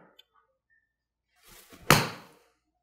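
A golf wedge strikes a ball on a practice shot: soft shuffling leads into one sharp, close impact that rings briefly and then fades.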